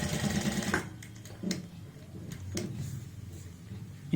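A sewing machine runs a quick burst of stitches on a fabric border strip, a rapid mechanical chatter that stops abruptly, followed by quieter handling clicks and taps.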